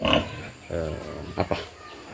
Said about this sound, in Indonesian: Ini babi yang kita rencanakan yang menurut catatan kita lebih cepat